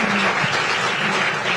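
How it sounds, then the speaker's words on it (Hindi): Loud applause breaks out at a school road safety campaign event, many people clapping together in a steady, close, full burst that holds without pause. "जोरदार तालियां।"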